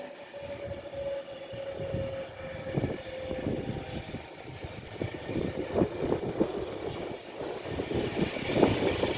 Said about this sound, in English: About to arrive in now will be the 11:34 Avanti West Coast service to London Euston